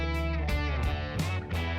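A twangy electric guitar in a smaller artist's song plays ringing, sustained notes with a slightly distorted edge. Each chord or note has a clear attack, and the playing is close and upfront with no talking.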